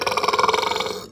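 A long, loud, guttural burp from a man at a meal, rattling in rapid pulses for about a second before cutting off, close to the microphone and alone.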